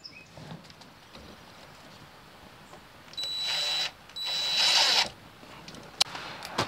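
A cordless drill drives stainless steel sheet metal screws in two short whirring bursts of about a second each, over faint background noise.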